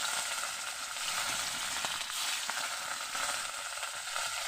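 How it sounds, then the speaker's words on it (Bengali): Fish fries in hot oil in a kadai over a wood-fired stove, giving a dense, steady sizzle that stays loud and even throughout with no voices. "এখানে দেখো কড়াইটা তেতেও গেছে মানে তেলটা গরম হয়ে গেছে এবার আমি মাছটা দিয়ে দেবো"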